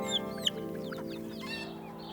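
Pet chickens cluck close by in soft, rising calls that repeat, with a couple of brief sharper notes and a faint hum beneath them.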